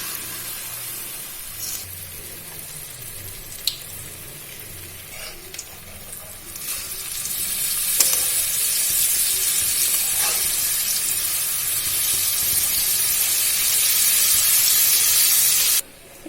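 Mango fritters fry in oil over a low-medium flame, a soft continuous sizzle that grows fuller and louder partway through, with a few faint clicks before it stops abruptly.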